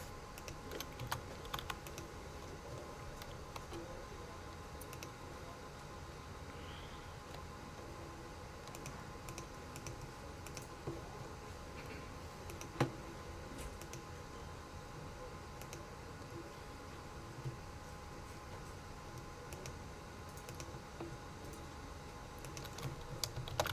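Steady typing on a computer keyboard, a continuous run of soft, fast key clicks with a few louder taps, heard close and alone throughout.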